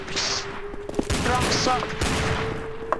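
Desert Eagle pistol shots in the game Garry's Mod, a few loud sharp cracks over a continuous game background hum with brief vocal sounds.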